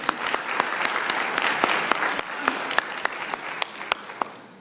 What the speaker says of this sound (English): Please give them a round of applause this morning.